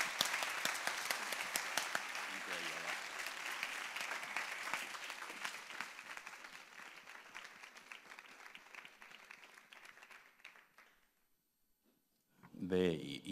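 Audience applause closing a plenary lecture at a discourse studies symposium in Barcelona, loud sustained clapping that gradually thins and fades to near silence, followed by a brief burst of voice at the very end.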